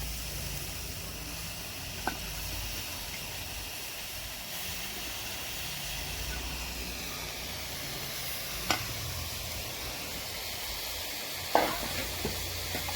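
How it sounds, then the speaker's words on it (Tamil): Chopped milagu thakkali keerai (black nightshade greens) sautéing in a hot pan, a steady soft sizzle and hiss throughout with a few faint clinks of the spatula, no talking. "இதையும் போட்டு நல்லா வதக்கிக்குவோம்"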